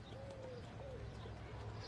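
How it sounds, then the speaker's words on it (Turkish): Doves coo outdoors in a few soft, low, rolling calls over a steady background hum, fairly distant, with no talking. "Kuşlar geldi"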